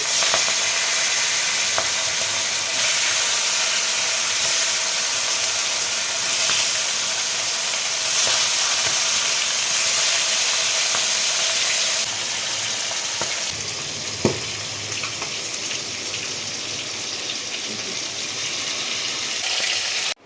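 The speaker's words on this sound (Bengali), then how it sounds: "মাথাগুলো সব ভেজে নিয়েছি" Fish heads sizzle in hot oil with turmeric, a loud, steady, close frying hiss that runs unbroken throughout. It eases slightly partway through, with a single soft knock soon after.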